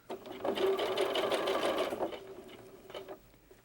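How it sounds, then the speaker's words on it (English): Sewing machine running a simple stitch along the hem of a small doll jacket, a steady close mechanical whir lasting about three seconds, then a brief second burst after a short pause. "I'm just going to do a simple stitch."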